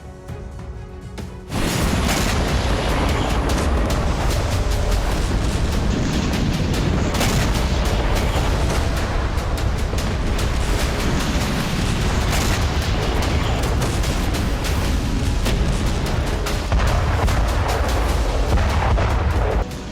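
After a brief quiet moment, a loud, continuous barrage of explosions and artillery fire rumbles on without pause as Russia attacks Avdiivka, Ukraine.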